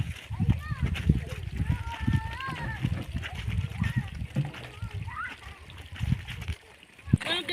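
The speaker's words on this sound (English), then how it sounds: "Washing these clothes." Clothes being washed by hand in water during a village laundry day, with repeated splashing and sloshing close by while children and adults talk over it.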